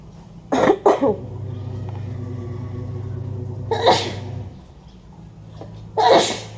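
A woman outdoors sneezes repeatedly: a quick double sneeze, then another sneeze a few seconds later and a final one, each loud and close over a low steady background hum.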